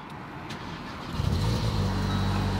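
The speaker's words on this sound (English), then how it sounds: "I want to see if the engine starts." The engine of a wrecked 2019 VW Golf GTI cranks and catches, a brief whirring start followed by a close, low idling rumble that settles in and holds steady to the end.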